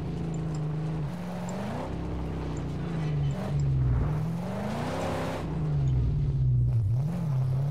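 Car engine in the Mad Max video game revving and easing repeatedly, its tone rising and falling in waves as the vehicle is driven, close and fairly quiet with no talk.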